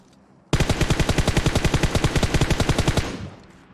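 Rapid automatic gunfire from PUBG Mobile, a sustained burst of about twenty evenly spaced loud shots lasting roughly two and a half seconds, then a short fading echo, with no talking.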